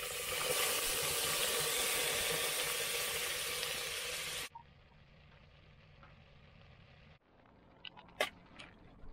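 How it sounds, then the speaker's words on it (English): Oil heats and sizzles in a pot on a camp stove at a snowy winter campsite, a loud, steady hiss that cuts off abruptly, followed by quieter outdoor sounds and a few faint clicks. "We got the pot on right now with the oil in it, heating up"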